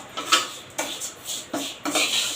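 Vermicelli frying in a pan on a slow flame for mango semiya upma, stirred with a scraping utensil in a series of short, close, rhythmic scratches and rustles, one roughly every half second.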